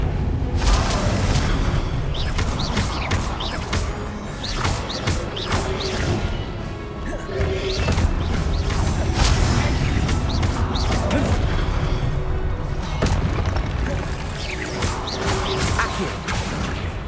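Repeated fiery Confringo spell blasts in Hogwarts Legacy, a dense run of booms, crashes and whooshes that keeps the battle loud and continuous throughout.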